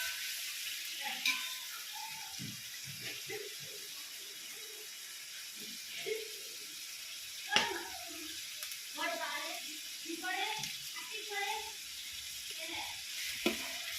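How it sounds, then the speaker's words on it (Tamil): Onion and tomato fry in a pan for biryani with a soft, steady sizzle and occasional stirring scrapes, while voices talk over it through much of the time. "தக்காளியை நல்லா வணக்கிக்கலாம்."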